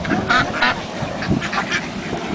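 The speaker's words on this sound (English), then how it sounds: "We're feeding the ducks right now." Hungry ducks quack repeatedly while being fed, a busy cluster of nearby, overlapping quacks and honks in quick, irregular bursts.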